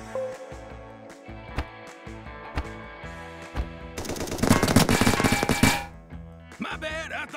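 Gunfire from a weapon in the video game Tony & Clyde: scattered single shots over background music, then a dense, loud burst of rapid automatic fire lasting about two seconds before fading.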